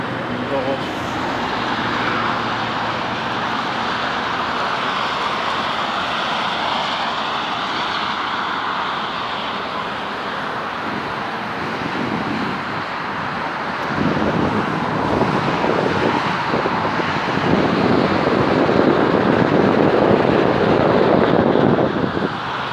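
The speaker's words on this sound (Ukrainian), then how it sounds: "Ох і шум тут стоїть з цими машинами." Continuous roar of car traffic on Bazhana Avenue in Kyiv, a steady dense road rumble with wind noise on the microphone, growing slightly louder toward the end as vehicles pass nearby.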